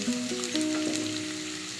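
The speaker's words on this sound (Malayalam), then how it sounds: "ഇപ്പം ഞാൻ ഈ തേങ്ങ ചിരണ്ടിയത് ഇതിൻ്റെ കൂടെ ഇടുവാണ്." Grated coconut tossed into a hot frying pan for drumstick thoran, giving a brief steady sizzle and crackle, close and continuous, with a faint tonal hum underneath.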